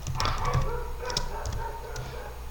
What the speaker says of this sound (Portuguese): os cachorros do vizinho tá latindo muito aqui e isso tá atrapalhando o vídeo um pouco